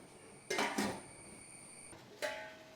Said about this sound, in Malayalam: അടച്ചും കൂടെ വെച്ചേക്കാം, പെട്ടെന്ന് തിളക്കട്ടെ.